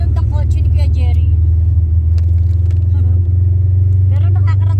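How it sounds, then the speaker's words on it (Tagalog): A car engine idles with a steady low rumble throughout, while people talk over it in short bursts. "ganito yung tunog ng kotse ni Kuya Jerry."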